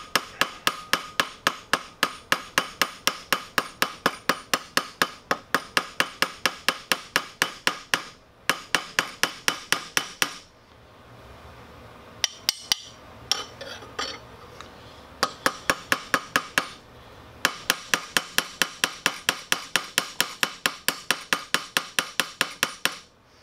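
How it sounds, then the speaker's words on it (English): A light-to-medium ball peen hammer strikes a rivet on a PSL rifle's gas piston in fast, sharp metallic taps, loud and close, in long bursts with short pauses. "have it flat against that side using a not heavy but not super light ball peen hammer"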